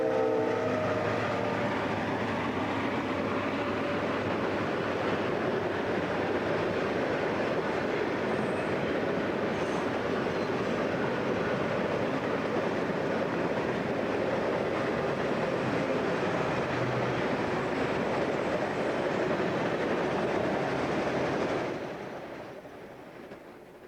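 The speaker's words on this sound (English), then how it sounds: "The UP Auto train from Chicago, routed via East St. Louis," A Union Pacific auto train from Chicago, routed via East St. Louis, rolls past along the Mississippi River with a steady loud rumble and rail clatter, a faint horn, then fades as it moves away.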